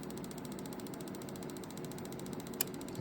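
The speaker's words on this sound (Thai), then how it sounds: "ก็จะได้ยินเสียงแอร์กับพัดลมทำงานนะ" A steady mechanical whir of the air conditioning and cooling fan running in a 1994 Jeep XJ, constant and even with a faint rhythmic ticking, and one brief click near the end.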